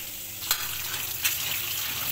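Onions sauté in a pan with a faint, steady frying hiss and two brief clatters of a stirring spoon, heard alone without talk.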